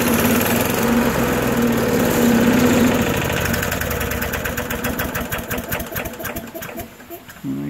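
Talon lawn mower engine firing on petrol squirted into the spark plug hole after repair, running loud and close with a steady buzzing drone that turns into a choppy, uneven chugging as it sputters toward the end.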